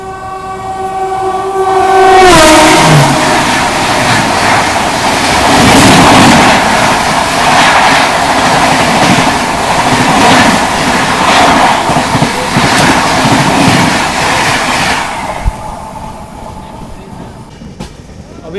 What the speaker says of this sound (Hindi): अभी बगल से आ रही है गुवाहाटी जोधपुर एक्सप्रेस।